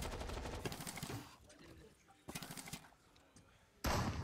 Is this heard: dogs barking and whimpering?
no